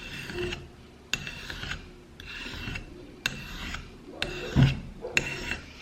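Knife blade drawn repeatedly across a sharpening stone in about six steady raspy strokes, each a short scraping burst with brief pauses between, close and fairly quiet.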